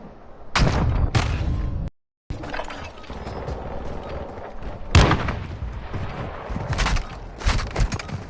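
Loud cracks of incoming gunfire in a video game battle, a few sharp close shots followed by a steady rumble of distant firing and impacts, with a brief dropout of silence partway through.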